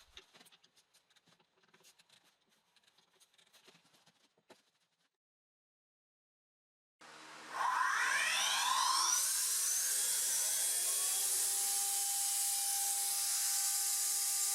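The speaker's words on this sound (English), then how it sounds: "This operation will machine the top of the part." CNC milling machine cutting the top of an amplifier front panel: light scattered rattling and clicks, a brief silence, then a high whining cut that sweeps up in pitch and settles into a loud, steady scream.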